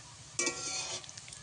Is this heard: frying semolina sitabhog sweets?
yes